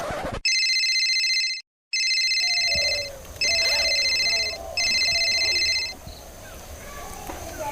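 Telephone ringing in repeated electronic trill bursts, loud and close, with a brief silent gap early and faint background sounds between rings.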